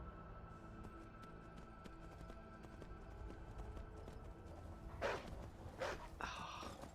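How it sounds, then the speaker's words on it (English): Horse hooves in the video game Skyrim clip-clop in a steady, regular rhythm, fairly faint at first, with louder scuffs and a snort-like burst toward the end. "Right, I think this is my horse."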